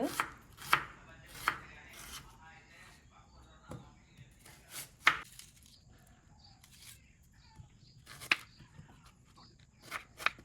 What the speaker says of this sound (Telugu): ముందుగా చికెన్ కట్ చేసుకుందాం